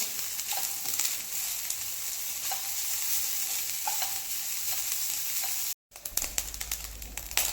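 Grated coconut dry-roasting in a pan for fried modak filling, stirred steadily with a scraping, rustling sound and a soft dry crackle, close and continuous with a brief break near the end.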